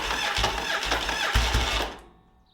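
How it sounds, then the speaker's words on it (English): A Yamaha Virago motorcycle engine cranks with a rapid, rhythmic churning for about two seconds without firing, then stops, leaving a faint ringing tail. "Let's put some gas in it, fire it up, and see if we can get it running."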